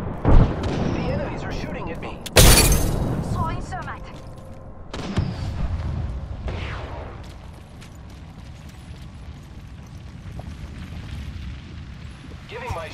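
Frag grenades and gunfire in the Apex Legends video game: a heavy close blast, then a second boom, each rumbling and fading into a lingering roar of game noise.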